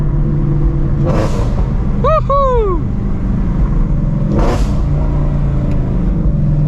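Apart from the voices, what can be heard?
Shelby GT350 Mustang engine revving through long tube headers and exhaust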